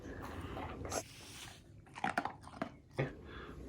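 Dogs crunch and chew food up close, with a run of sharp bites and munching sounds in short bursts against a quiet room.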